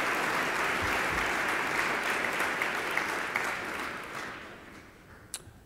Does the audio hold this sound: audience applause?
yes